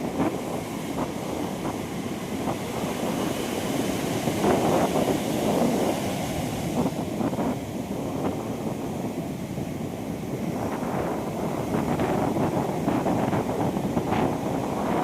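Big sea waves surge and roar continuously under strong wind buffeting the microphone, with a boat out on rough water, a steady loud wash of surf filling the whole stretch.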